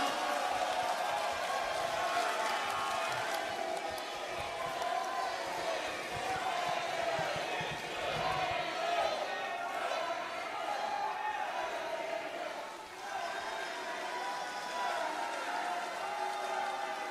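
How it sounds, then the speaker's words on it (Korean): Crowd applause fills a party convention hall in Daegu-Gyeongbuk as candidate Choi Min-hee is welcomed to speak: a steady, dense wash of clapping and cheering that holds at an even level throughout. "뜨거운 박수로 맞아주시기 바랍니다"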